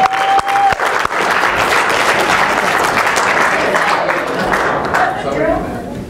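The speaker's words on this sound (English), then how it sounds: "Give them a round of applause." Loud, sustained applause from a large audience, a dense wash of clapping that holds steady and then begins to fade.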